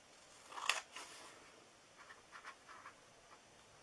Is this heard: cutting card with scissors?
yes